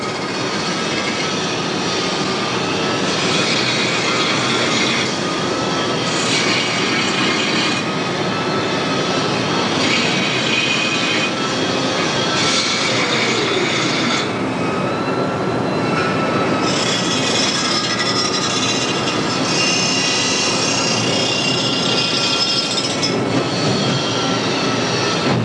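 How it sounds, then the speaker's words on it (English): An industrial metal grinder runs continuously inside the Chop-Rite factory, giving off a loud, steady roar with a harsh, noisy texture that keeps on without a break or any voices. "Some of the grinding will be done at this grinder right here"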